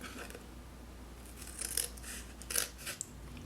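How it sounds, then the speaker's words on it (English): Paper scissors trim leftover card pieces cut from a box, giving a few quiet, brief snips and rustles at close range with no talking. "we're going to use our paper scissors, and we're going to trim off"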